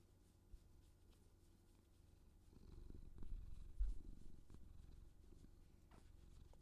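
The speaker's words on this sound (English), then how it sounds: "Petting and purring ASMR." A cat purrs while being petted, a soft, low, continuous rumble that swells louder midway through and stays close and quiet, with no talking.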